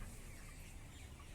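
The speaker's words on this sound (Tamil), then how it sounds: "இந்த பேர்ட்ஸ் எல்லாமே ரொம்ப ஆக்டிவாக ஹெல்த்தியாகவும் இருக்குது." Chickens cluck in a dense, continuous murmur on a village poultry farm, a faint, short stretch of overlapping calls with no talking.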